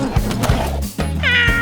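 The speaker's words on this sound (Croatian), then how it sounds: "Mačka." A cat meows close by, a short plaintive call followed by a higher drawn-out meow, with no talking.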